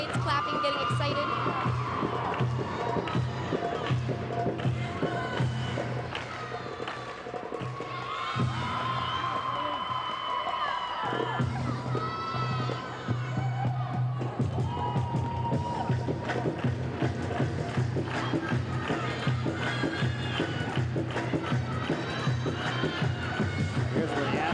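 Gymnastics teammates cheer, whoop and clap without a break at the 2005 Pac-10 Championships. The crowd noise stays busy and roomy, with shouts rising over it.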